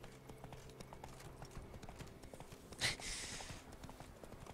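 Horse hooves clip-clop in a steady walking rhythm in The Witcher 3: Blood and Wine, fairly quiet, broken by one sharp burst of noise partway through.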